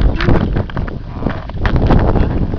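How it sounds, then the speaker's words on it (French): Loud gusty wind in the countryside rumbles against the microphone, uneven buffeting with rustling bursts throughout. "le soleil tape, mais là du vent. Regardez combien de vent."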